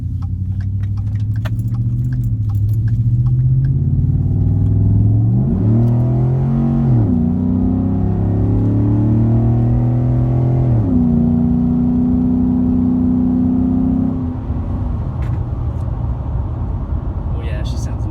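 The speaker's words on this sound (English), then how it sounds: "I'm gonna do a little just driving it with the Roush exhaust and intake" A 2014 Ford F-150 with the 5.0 V8 and Roush exhaust and intake, heard from inside while driving: a steady, loud engine drone rises through revs in two pulls, with gear shifts between them, then settles to cruise.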